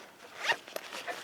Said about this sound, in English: it's a handy little pocket, and it has a zipper closure